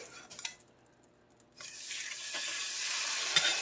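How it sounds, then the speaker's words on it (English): Fish and shrimp hit a hot pan, starting after quiet clinks and scrapes with a sudden loud sizzle that holds steady and bright, plus a light stirring clatter near the end. "We're just going to give this fish a little cook over here."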